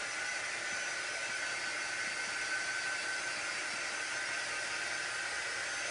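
A hair dryer or heat tool blows steadily over freshly painted craft work on a DIY Valentine garden flag, a constant close, loud airy roar with no pauses for the whole stretch.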